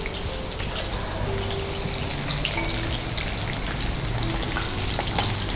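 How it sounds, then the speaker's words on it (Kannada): Chicken deep frying in hot oil on a low flame, a dense, close, continuous sizzle and crackle with scattered pops and bubbling, no voices. "ಲೋ ಫ್ಲೇಮಲ್ಲೇ ಫ್ರೈ ಮಾಡಬೇಕು."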